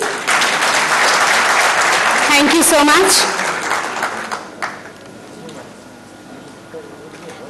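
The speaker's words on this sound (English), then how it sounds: "Can we have a huge round of applause" A hall audience at a formal ceremony bursts into loud, dense applause that rings for about three seconds, then fades to scattered claps as a voice speaks over the tail.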